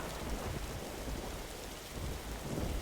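A thunderstorm in the zombie survival game The Last Stand Aftermath: steady heavy rain hisses throughout while low thunder rumbles roll underneath, dense and continuous, with no voices.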